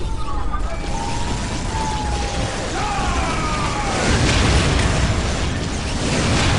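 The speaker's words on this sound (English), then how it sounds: "Taking heavy fire!" Explosions and gunfire fill a Warhammer 40,000 Dawn of War Soulstorm battle, a dense continuous roar of blasts and shots, loud and close throughout, with a faint voice briefly under the din.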